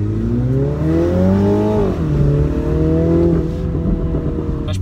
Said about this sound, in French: Ah, ça pétarade.